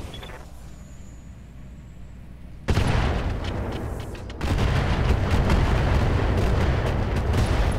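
An explosive pod detonating in the mech game Roguetech: a sudden loud blast cuts in, dips briefly, then a second heavy booming roar follows and rumbles on continuously to the end.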